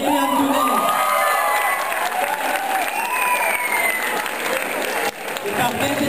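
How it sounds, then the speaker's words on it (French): A graduation ceremony audience applauds a graduate who is away outside Québec, with steady clapping, cheers and a few whoops filling the hall for about six seconds, plus a brief dip near the end. "On va l'applaudir quand même."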